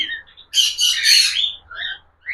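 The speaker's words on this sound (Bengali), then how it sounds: "এই যে পাখিটা যে ধরেছি দেখুন" A lutino cockatiel squawks loudly and harshly in several bursts while being held, close by, with brief chirpy calls before and after.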